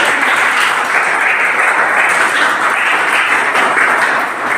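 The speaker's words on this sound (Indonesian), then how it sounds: "Kasih tepuk tangan." Steady applause from a classroom of students in an Islamic religious education lesson, dense and continuous, close and loud, fading slightly at the end.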